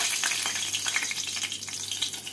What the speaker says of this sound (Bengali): সেই তেলের মধ্যে এবার দিয়ে দেবো একটা কাঁচা লঙ্কা